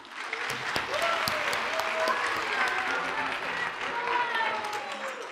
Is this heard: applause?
yes